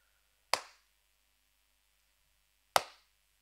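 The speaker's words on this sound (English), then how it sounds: "I'll start us off with a clap." Two single, sharp hand claps about two seconds apart, crisp and close with a short decay, in an otherwise quiet podcast studio and with no talking.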